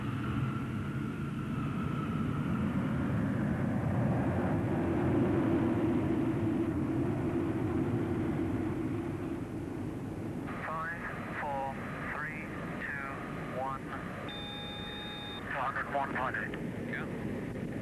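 A Concorde 002 airliner takes off on a test flight from Filton near Bristol, its jet engines roaring loudly and steadily before fading under radio chatter and a narrating voice.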